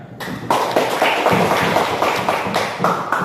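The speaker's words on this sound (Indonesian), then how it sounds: "Tepuk tangannya." Clapping from a classroom audience after a student group's presentation on the Prophet Muhammad's preaching methods, a sparse, uneven patter of hands in a small room, lasting a few seconds.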